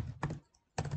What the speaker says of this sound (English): So I'm going to type that in our paragraph.